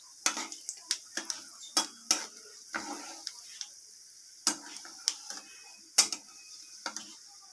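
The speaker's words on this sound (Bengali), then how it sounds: "ফোড়নটাকে একটু ভাজা ভাজা করে নেব" Black cumin and two dried red chillies fry as a tempering in a pan, giving a faint sizzle broken by a run of sharp spatula taps and scrapes against the metal, fairly quiet and close.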